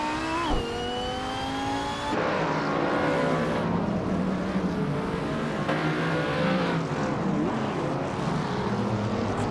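Racing cars in a video game race, engines whining and revving with pitch rising and shifting as they accelerate, several cars layered together in a continuous loud drone.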